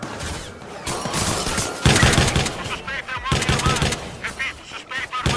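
Rapid gunfire bursts in the video game Watch Dogs 2, with loud repeated volleys of shots coming in clusters over chaotic background noise, alongside a player speaking.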